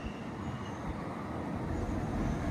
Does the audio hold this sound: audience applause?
no